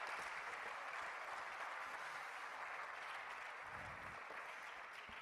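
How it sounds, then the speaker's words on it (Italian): An audience applauds at a Fratelli d'Italia political event, marking Giorgetti's birthday; a steady, even wash of clapping from a large crowd heard at a distance, fairly faint, with no voices over it. "quindi chiamo un applauso"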